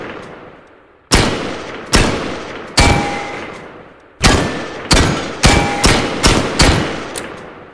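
A scoped rifle fires in a shooting video game, with about ten loud, sharp shots at irregular intervals, each one followed by a ringing decay, and the last few come in a quicker burst.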